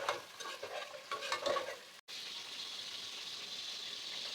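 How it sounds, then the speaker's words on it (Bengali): Whole spices fry in a pot for beef bhuna: bay leaves, green and black cardamom, cloves, cinnamon, peppercorns and green chilies. A spoon scrapes and stirs through them close up, then a steady, even sizzle continues alone. "দিয়ে দিচ্ছি কাঁচামরিচ আর এখানে তেজপাতা এলাচ লবঙ্গ দারচিনি বড় এলাচ আর গোলমরিচ রয়েছে এটা আমি কিছুক্ষণ একটু ভেজে নেব"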